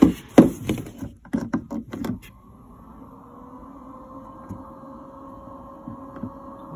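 Small ventilation fan of a Nature's Head composting marine toilet, newly installed aboard a boat, running with a steady low hum and faint whir after a few knocks and handling sounds at the start.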